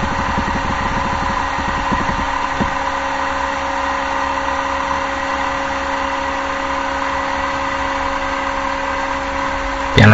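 Cessna 172 single-engine piston aircraft engine running up to full takeoff power at a small Italian airstrip, a steady droning roar with a constant harmonic hum that holds loud and even throughout, no talk over it.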